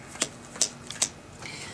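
Playing cards drawn one by one from a deck for the DC Deckbuilding Game, three crisp sharp snaps evenly spaced, close and clear, with a softer slide trailing after.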